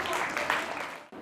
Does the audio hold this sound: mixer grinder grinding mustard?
no